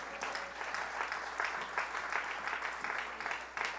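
A church congregation applauding, steady dense clapping from many hands filling the room, moderately loud with no pause.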